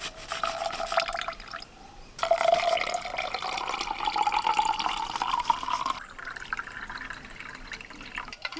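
Ginger juice poured into a homemade sherbet with lemon juice, sugar, salt and black salt: a steady, close trickle of liquid with a brief pause, then a fuller, continuous pouring stream.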